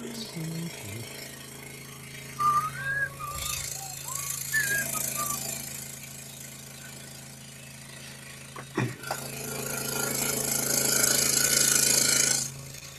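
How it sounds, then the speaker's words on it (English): A Hegner scroll saw runs at full speed, about 1700 RPM, cutting a wooden portrait, giving a steady mechanical drone with a rising, louder buzz toward the end and brief knocks along the way. "the RPMs on a Hegner are, I believe, 1700, and it is all the way up"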